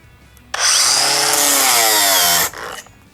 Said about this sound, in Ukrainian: Спробуємо просто його задавити, чи зупиниться болгарка, чи ні.